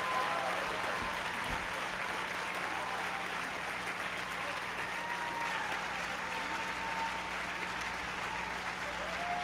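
Audience applause at a live tent event in Winston-Salem: sustained, dense clapping from a large crowd, steady and fairly loud throughout with no break.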